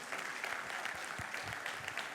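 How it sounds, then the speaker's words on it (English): Audience applause after a dance performance at a school golden jubilee celebration, steady dense clapping from a crowd filling the whole stretch at moderate level. "Let us give a round of applause to them again."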